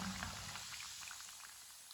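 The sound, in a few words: samosas frying in oil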